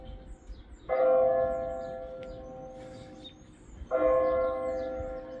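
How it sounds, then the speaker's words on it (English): A church bell chiming noon in Benton, Missouri strikes twice, a few seconds apart, each deep ringing tone sustaining and slowly fading, heard from some distance. "Folks, the dinner bells has chimed."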